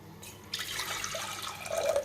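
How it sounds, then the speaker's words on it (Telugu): Water being poured from a cup into a cooking pot of sorghum, a short close splashing pour that grows slightly louder toward the end. "ఈ కప్పుతోటి 2 కప్పులకి 6 కప్పులు వాటర్ పోసుకుందాం"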